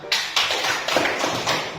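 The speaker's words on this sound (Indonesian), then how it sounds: "tepuk tangan" Classroom applause for presenting student groups, a short burst of rhythmic clapping from a small group, fairly close, in uneven pulses over a couple of seconds.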